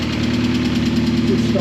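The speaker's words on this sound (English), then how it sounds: "it's still tapping a bit because of the new lifters, but they'll quieten down just shortly" A Vauxhall Cavalier's C20XE engine idles with new hydraulic lifters, giving a steady low hum and a faint, rapid ticking, close and loud, while someone talks over it.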